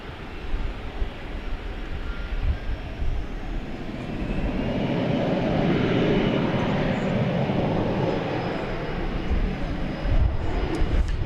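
Boeing airliner jet engines roar steadily on the runway at DFW Airport, a broad sustained rumble that swells slightly in the middle and holds loud and fairly close throughout.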